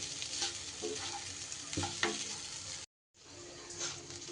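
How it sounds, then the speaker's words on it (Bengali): Broken wheat (dalia) is stirred and fried in a pan over medium-low heat, giving soft sizzling with scraping spoon strokes and a brief silent gap near the end. "এবার ডালিয়াটা দিয়ে খুব ভালো করে কিন্তু নাড়াচাড়া করে নিতে হবে একদম বেশ ভাজা ভাজা করে নিতে হবে"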